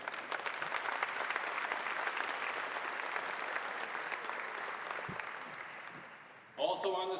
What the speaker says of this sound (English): Please give them a round of applause for their dedication.